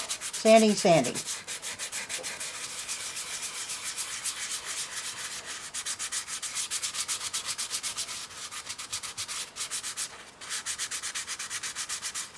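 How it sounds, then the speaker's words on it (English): Continuous rhythmic scratchy rubbing of sandpaper on a hard surface of a vintage Effanbee Bubbles doll, sanding off spackling; close and fairly loud, with brief pauses between strokes; a short squeak at the start. "I put spackling on this baby here, and now it's time to get this stuff off. I'm sanding."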